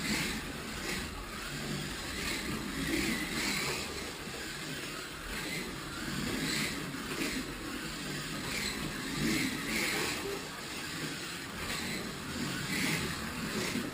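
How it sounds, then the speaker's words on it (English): A Revo Slot Viper slot car laps the track with a steady, continuous whirring buzz and a noisy rattle, close and fairly loud, pulsing faintly as it circles, with no voices. "you can hear that this car is slightly noisy and rattly"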